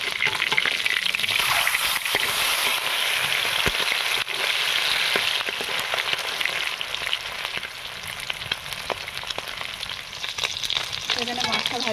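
Rui fish pieces sizzle steadily in hot oil in a kadai after being flipped, a dense, continuous crackle with occasional sharp pops and spatters throughout, close and fairly loud with no talking.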